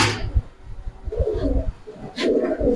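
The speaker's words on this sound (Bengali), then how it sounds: "দর্শক সর্বশেষ আরেকটা কবুতর দেখাই" A Giribaz pigeon coos nearby in short, throaty bursts, with a few soft rustles between the calls and no talking.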